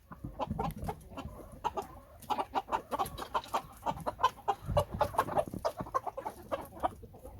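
Backyard chickens in a flock clucking and squawking in repeated short bursts, fairly close, with scattered bird calls overlapping and no talking.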